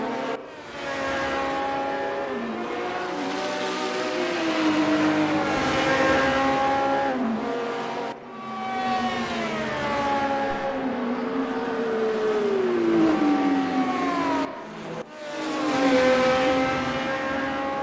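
Race cars circle Monza in a sim racing video game, one engine howling close and loud as it climbs through the gears, dropping briefly at shifts, with a final short lift and burst of revs near the end.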